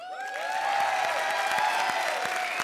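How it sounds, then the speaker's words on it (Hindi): Studio audience at an Indian TV comedy show claps in a steady, moderately loud burst of applause, with faint cheering and tonal music running through it. "अरबाज के लिए ताली बजाओ।"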